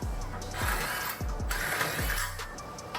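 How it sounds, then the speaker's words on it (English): A ratchet with a 22 mm socket works on the large brake caliper bolts of a Nissan Z, giving rapid clicking pawl sounds and repeated low knocks with short pauses under a steady background. "I'm using a 22 millimeter socket, removing the 2 large bolts that are holding this caliper here"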